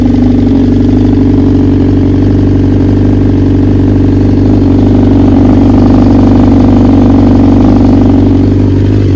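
A superbike engine running slightly rich on E85 fuel idles steadily and loudly at close range, a constant low rumble with no revving and no voices.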